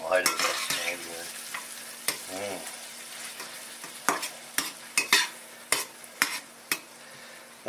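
Veggie spaghetti sauce is stirred in a pan, with a quiet simmering sizzle and a series of sharp utensil clinks and scrapes against the pan, close and irregular.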